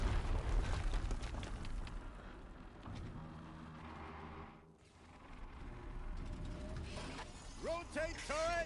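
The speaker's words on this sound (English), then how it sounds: "Another explosion." An explosion in the Horizon Zero Dawn video game: a dense, rumbling roar of debris fills most of the stretch, dips briefly, then returns with rising whooping mechanical game effects at the end.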